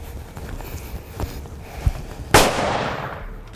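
A single loud rifle shot fired at a large crocodile in the African bush cracks out sharply near the end, leaving a long decaying tail, after a faint thump and quiet outdoor background.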